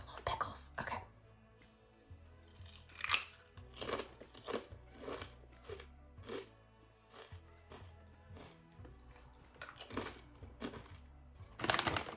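Crunchy pickles being bitten and chewed up close, with repeated wet crunches and smacking between bites, and soft murmured talk in the background.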